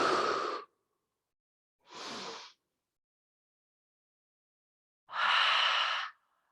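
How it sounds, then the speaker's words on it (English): Three slow, deep breaths are drawn and released during a standing yoga pose with the arms raised overhead. Each is a soft, airy whoosh, and a long quiet gap falls before the last and fullest exhale. "Taking 3 rounds of breath."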